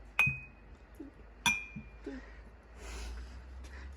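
Heisey glass sunflower creamer and sugar bowl handled together, two bright ringing clinks of glass against glass with soft knocks and handling noise between them, close and otherwise quiet.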